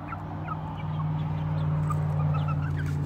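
Chickens peck at thrown scratch feed and cluck steadily nearby, a continuous low murmur of fowl calls with occasional sharper clucks.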